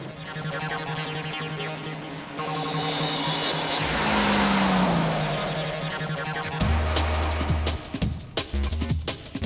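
A rear-wheel-drive car drives around cones. Its engine revs up and down close by while the tires squeal briefly, and the car passes loudly.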